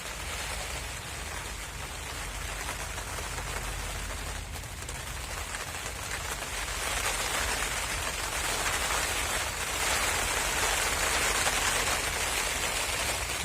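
Steady rain pours down continuously, a dense hiss of drops on a surface throughout, with no voices.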